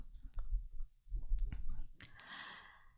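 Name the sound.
typing a ChatGPT prompt on a keyboard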